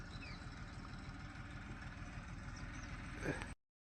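A tractor engine runs close by in a farm field where maize has been sown, a low, evenly throbbing diesel chug that holds steady for a few seconds before cutting off.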